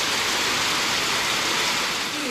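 Heavy rain pours down in Agartala, Tripura, a dense, steady hiss that fills the whole short stretch with no pauses and no voices.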